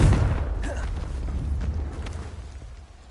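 The Confringo fire spell explodes in Hogwarts Legacy on PS5, a heavy low boom with a rumbling tail that slowly fades.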